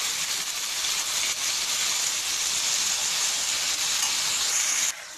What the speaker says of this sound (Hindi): अब हम इसमें चिकन कीमा ऐड कर देंगे इसे अच्छे से मिक्स कर लें